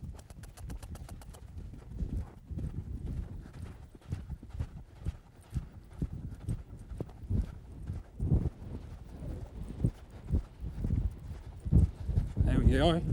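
A horse in training strikes the ground in rhythmic, repeated hoofbeats of a gallop, fairly close, with a person talking over the pounding footfalls throughout.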